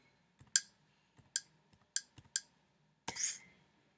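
Computer mouse clicks, five crisp separate clicks spaced unevenly over a few seconds, the last a little longer and rougher, close and alone with no talk.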